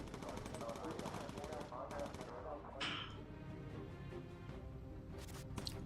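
Bursts of gunfire from enemy coastal emplacements aimed at a bomber in the video game Bomber Crew, rapid machine-gun rattles at moderate level over engine drone, with a brief sharper blast midway and more firing near the end.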